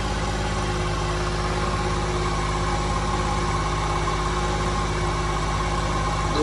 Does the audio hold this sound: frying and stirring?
no